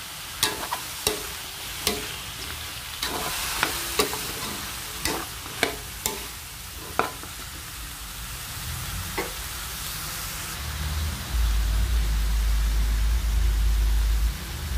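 A spatula taps and scrapes sharply and rhythmically in a hot pan for pinakbet. Then eggplant is added, and a louder, sustained sizzle takes over close by.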